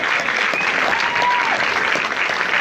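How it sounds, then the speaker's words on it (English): An audience claps steadily, a dense wash of applause from a crowd filling the whole moment. "Ladies and gentlemen, a big round of applause."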